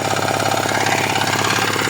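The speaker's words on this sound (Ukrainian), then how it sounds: "Такий мотовоз, шестисильний кентаврик." A six-horsepower Kentavr walk-behind tractor from 2010, with a rebuilt engine, runs close and loud while hilling potatoes, a fast rattling chug with a rapid, even knocking pulse and no voices.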